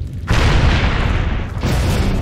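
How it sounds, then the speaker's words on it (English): Two simultaneous explosions rupture a natural gas pipeline in Guanajuato, Mexico: a sudden loud blast erupts into a sustained, thundering roar, with a second surge of force about a second later. "Two separate explosions at the same time rock a natural gas pipeline in the Mexican state of Guanajuato."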